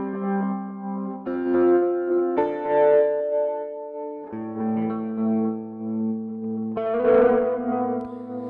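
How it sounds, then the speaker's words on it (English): Electric guitar run through a delay effect in a software amp rig, single-note lines and intervals ringing out with trailing repeats, loud and close with no talking. "the guitar with the delay"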